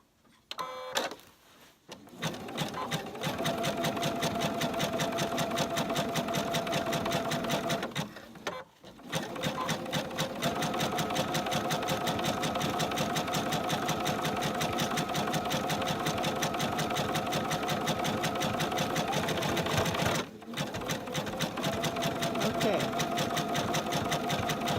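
A sewing machine stitches coiled rope for a rope bowl in a fast, even, rattling run. It pauses briefly three times and starts again each time.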